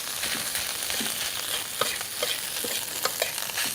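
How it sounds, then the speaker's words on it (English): Leftover rice stirred and tossed in a hot pan for Indonesian nasi goreng fried rice, a constant hissing sizzle with repeated light scrapes and taps of the spatula, close and steady, no voice. "Rice goes in. and really stir this up."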